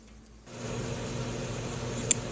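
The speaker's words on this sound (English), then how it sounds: "Then we're gonna microwave this for 5 minutes uncovered." A microwave oven switches on to heat sweetened banana, a soft click followed by a steady low hum and fan whir, with a tiny tick near the end.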